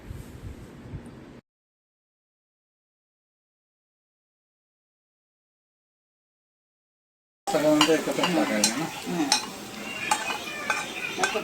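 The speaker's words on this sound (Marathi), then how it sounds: "आता ह्या भाज्या छान फ्राय होत आहेत" Vegetables fry in plenty of butter for butter garlic chicken, with a close sizzle and scraping stirring that stops for several seconds of total silence, then returns louder.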